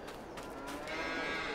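Holstein dairy cows in a farmyard in Farming Simulator 22, a single drawn-out low moo heard quietly and fairly close, with no talking over it.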